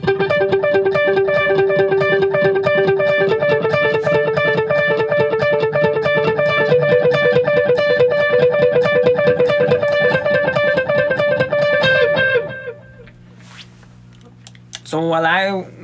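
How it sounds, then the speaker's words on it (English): An electric guitar plays a fast repeating riff through a delay effect, the echoed notes stacking into a dense, continuous pattern before it stops and a few softer notes follow. "So let me play to you the riff with the delay on."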